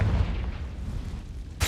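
A Confringo blasting spell explosion in the video game Hogwarts Legacy, a deep booming blast with a low rumble that fades out, followed by a second sharp burst at the end, loud and close.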